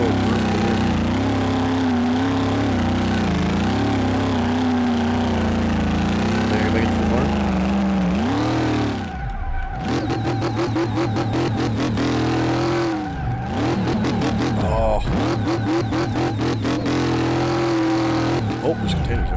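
A 1966 Chevrolet C10 pickup in Car Mechanic Simulator 2018 spins its tires in a continuous burnout, the engine droning and revving with wavering pitch, then cutting and surging again in bursts; a person talks over it.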